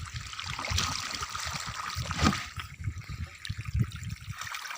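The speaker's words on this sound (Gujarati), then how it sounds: "આપણે મોટર ચાલુ કરી દીધી છે ને લીંબુડીમાં પાણી ચાલુ કરી દઈએ" Water from a farm motor pump flows into lemon trees, a steady close trickle and splash with a few louder gurgles.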